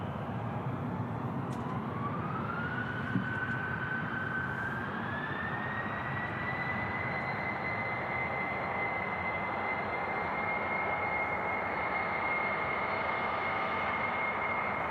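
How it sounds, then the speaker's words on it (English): A Jet2 Airbus A321 lined up on runway 05 left at Manchester Airport spools up its engines in freezing weather, a steady roar joined by a whine that climbs in pitch and then holds high. "Jet2 A321 next out. Lined up and ready to go."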